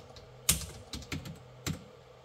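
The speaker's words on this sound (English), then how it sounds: "That bloody keystroke." A few isolated keystrokes on a computer keyboard, sharp close clicks spaced unevenly over a couple of seconds in a quiet room, with no talking.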